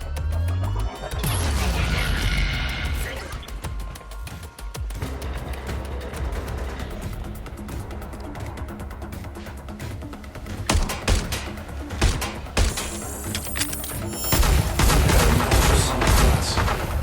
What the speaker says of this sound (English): Engaging target. Powered ultrasonic blast.